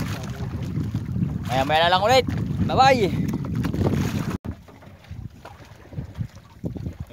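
A fishing boat's engine runs at night around two in the morning out on the water, a steady low rumble with wind noise; someone talks over it for the first few seconds before it continues alone.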